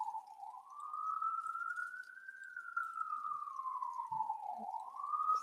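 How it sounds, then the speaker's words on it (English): A single siren wails steadily outside, its tone slowly rising and falling over several seconds, faint and distant in an otherwise quiet room. "just a moment while the siren goes on"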